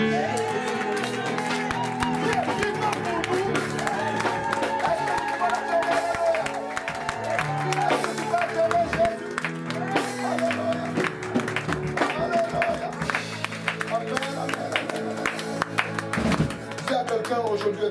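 A congregation applauds and acclaims at an Easter church service, dense rhythmic clapping and crowd cheering that carries on steadily, with voices and music layered underneath.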